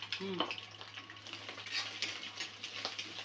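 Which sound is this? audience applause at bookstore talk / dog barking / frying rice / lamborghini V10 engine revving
frying rice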